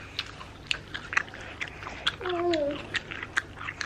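Close, moist chewing and biting of cake, with soft crunchy bites recurring every half second or so, alongside a brief murmur of a voice in the background.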